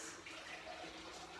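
Tap water pouring steadily into a kettle in a home kitchen, a continuous broadband hiss and splash, faint and unbroken with no talking.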